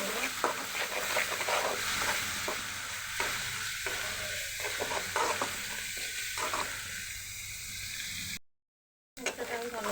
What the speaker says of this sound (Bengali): মশলাটা আমি ভালো করে ভেজে নিচ্ছি।